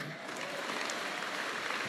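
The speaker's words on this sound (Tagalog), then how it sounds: "Ayun ang pumalakpak mga tao rito." A church congregation at a Tagalog preaching service claps: a soft, even wash of applause throughout, heard from a distance with no talk over it.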